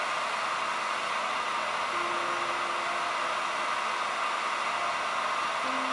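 A heat gun blows steadily while warming a pipe to soften it for a kayak cart, a continuous loud hissing whoosh of air with a faint tonal hum, unchanging throughout with no voices.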